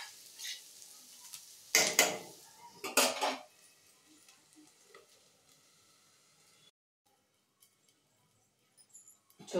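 Sliced bitter gourd pieces frying in a pan are stirred and scraped with a spatula in two loud clattering bursts, followed by quieter sizzling and faint clinks before the noise dies away.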